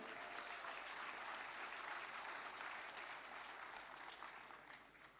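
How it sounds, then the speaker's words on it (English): A crowd applauds steadily with dense clapping, which gradually fades toward the end. "Big round of applause."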